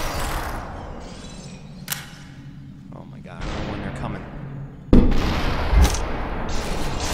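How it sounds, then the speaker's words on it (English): Gunshots ring out in the SuperHot video game as sharp cracks, with a loud hit partway through over a busy game soundscape, while someone talks. "Shoot this guy right here."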